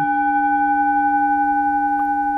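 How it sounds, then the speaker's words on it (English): A singing bowl rings with a steady, pure sustained tone, bright overtones hovering evenly without fading over a couple of seconds. "sometimes people will just play it once, and just kind of listen to the ring."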